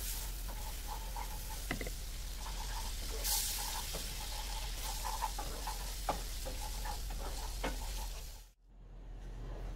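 Beef gravy made from canned beef broth sizzles steadily in a pan, with scattered scraping stirs and soft patter throughout; the sound cuts off abruptly near the end.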